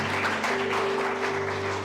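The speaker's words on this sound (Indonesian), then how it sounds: "Berikan tepukan yang tinggi untuk Tuhan." Congregation applauding during a church worship service, a steady wash of clapping held for a couple of seconds with sustained musical tones ringing underneath.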